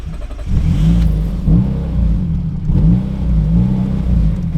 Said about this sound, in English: This is me holding the throttle a little bit